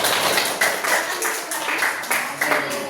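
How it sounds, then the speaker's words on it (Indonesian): Classroom applause in a micro-teaching session, a small group clapping with distinct, uneven hand claps, fairly close and loud, fading slightly toward the end. "Silakan beri tepuk tangan."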